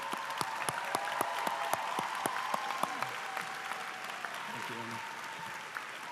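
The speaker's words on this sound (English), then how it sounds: "please rise and let's give them a round of applause." Faculty and staff at a Damascus High School commencement ceremony receive steady applause from a large crowd, a dense wash of clapping filling the hall with a few sharper claps and faint voices mixed in.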